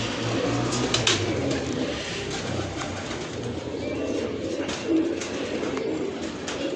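A female Kasuri pigeon coos softly at close range over steady background ambience. Low, murmuring calls repeat through several seconds, with no talking.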